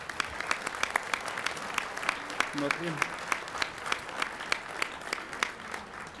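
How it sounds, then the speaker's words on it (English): An audience at an awards ceremony claps in scattered, fairly faint applause for several seconds while a voice briefly speaks over it. "Please give him a round of applause."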